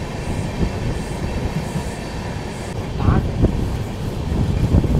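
Passenger train on a ghat section of the Amarkantak hill range, starting into a curve through dense forest; a steady, loud rumble of wheels and carriage noise runs throughout, rising slightly near the end, with faint voices mixed in.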